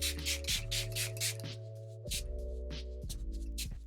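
Several quick spritzes of watermelon-scented setting spray from a spray bottle, short airy hisses in bursts over soft background music.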